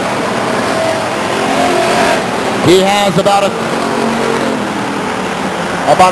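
A race car roars down the backstretch at Stockton 99 Speedway and overtakes a slower car on the inside. The engine note swells and sweeps past mid-clip beneath steady announcer commentary and crowd noise.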